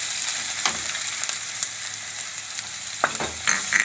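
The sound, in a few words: onion frying with green chillies and curry leaves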